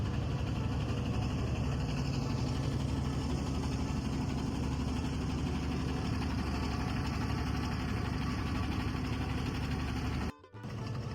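A boat engine drones steadily on the Padma river while pushing against a strong current. The low, even throb holds close and loud throughout, then cuts out abruptly near the end.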